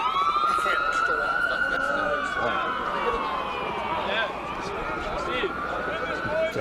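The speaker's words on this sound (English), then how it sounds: "We're right next to the hospital here by the university, so those ambulances coming by." Ambulance sirens wail past near a hospital by a university during a rugby match, rising and falling in loud sweeping tones over crowd noise and commentary.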